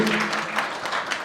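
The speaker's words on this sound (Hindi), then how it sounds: "एक बार पूरा जोरदार वाली तालियां हो जाए सभी की." At a food awards ceremony, the audience breaks into steady, moderately loud applause, many hands clapping together in a brief, even burst with no speech over it.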